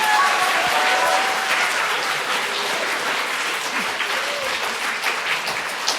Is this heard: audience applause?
yes